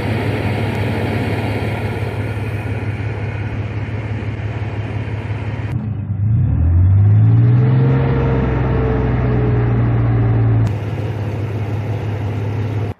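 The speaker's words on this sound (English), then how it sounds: "please go start the engine and press enter to continue" A car engine cranks and catches midway, then settles into a steady, close idle with a rising then flattening hum for several seconds before the sound cuts back to the background noise.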